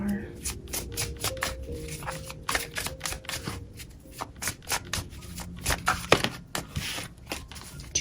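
Tarot cards are shuffled and drawn by hand in a reading: dense, rapid papery riffles and flicks run throughout, close and fairly loud, over steady background tones.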